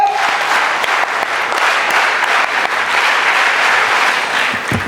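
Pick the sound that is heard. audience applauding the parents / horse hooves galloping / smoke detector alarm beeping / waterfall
audience applauding the parents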